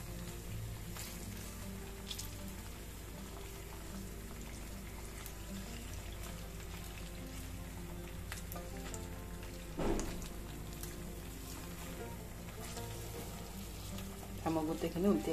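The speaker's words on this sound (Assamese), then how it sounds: "এটা ছাইড মই দুই মিনিটমান ভাজিম আৰু আনটো ছাইডো এনেকুৱাকৈ ভাজি আৰু উলিয়াই দিম" Paneer fries in a kadai with a soft, steady crackle and light spatter under a low background hum, a few louder scrapes and clinks of utensils near the middle and at the end.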